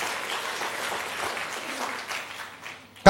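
A church congregation applauds God in a dense, sustained wash of clapping that holds steady, then thins and fades before a sudden loud knock at the very end.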